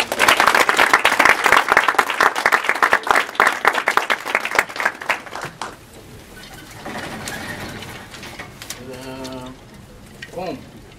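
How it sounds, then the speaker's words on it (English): An audience claps steadily to welcome Dr. El-Kati at a lecture, loud dense applause that thins out and stops about halfway, followed by a quieter stretch with a voice speaking. "let's give him a round of applause"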